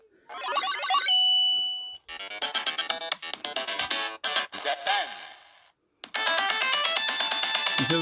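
Chiptune-style video game music and chimes blaring loudly from the small built-in speaker of a Retroid Pocket 2 handheld, in bursts broken by brief pauses.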